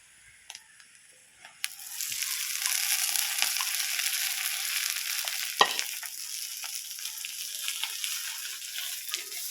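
Drumstick leaves sizzling as they fry in hot oil with onions, a steady crackling hiss that swells after a quiet start, with occasional stirring scrapes and clinks, close up and without talk.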